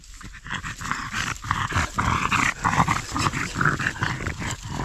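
Dogs pant, snuffle and give small growling whimpers close by, a busy run of breathy and throaty sounds with no talking.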